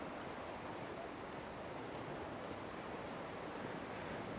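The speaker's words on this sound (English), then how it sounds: "Look at the nice waves coming in" Surf rolls in against the coastal rocks of a fishing port at sunset, a broad, continuous wash of noise with some wind buffeting the microphone. The sea sounds steady and moderately distant, with no talk.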